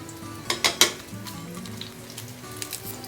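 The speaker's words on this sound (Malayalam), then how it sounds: "ഉള്ളി ഇട്ട് കൊടുക്കാം." Onions dropped into hot oil in a pan for a Kerala beef and tapioca dish, bursting into loud crackling sizzle with a few sharp pops early on, then settling into a steady close fry.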